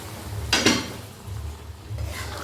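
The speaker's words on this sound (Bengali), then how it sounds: "এবারে এর ভেতর দিয়ে দেব যে মটর সেদ্ধ করা জলটা ছিল, সেই জলটা এর ভেতর দিয়ে দিচ্ছি" Boiled pea water is poured into fried, spiced peas for ghugni and stirred in, with a brief splash and sizzle followed by low scraping and bubbling from the pan, close and moderately loud, with no talking.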